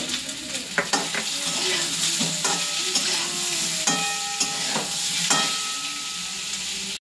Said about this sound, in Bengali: হলুদ আর নুন দিয়ে আলুটা ভেজে নেব